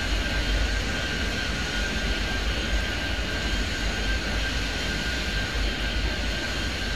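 Jet airplane engine roaring steadily at takeoff in the PC airport game Airport Madness 3D, a loud continuous broadband rumble with a thin high whine that holds level throughout.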